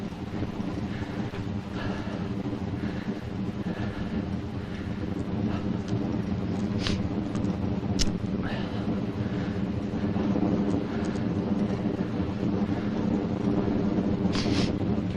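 Steady outdoor wind rushes and buffets the microphone in Santa Barbara, California, a continuous loud roar with no talking.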